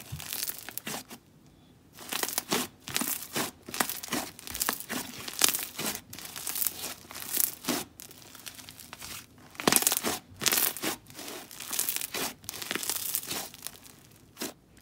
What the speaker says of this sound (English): The final texture was a stretchy and creamy, fluffy snow fizz slime that was crunchy and bubbly.